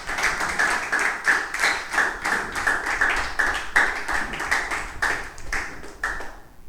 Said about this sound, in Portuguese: Pode se assentar e glorificar o Senhor com as palmas,